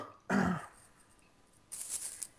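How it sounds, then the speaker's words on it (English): A single short throat clearing, close and fairly quiet, followed by a brief breathy hiss with no talk. "Making me clear my throat."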